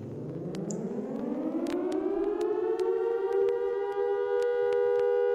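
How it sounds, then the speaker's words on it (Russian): A civil defense siren winds up from low to a steady high wail, loud and sustained and alone, with a few faint clicks over it. "Вы знаете, такие сирены,"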